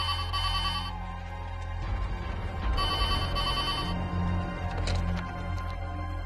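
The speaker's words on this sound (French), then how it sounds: "Répondez au téléphone!" An old-style telephone bell rings in repeated bursts with short pauses between them, fairly clear against a low background hum, with no voices.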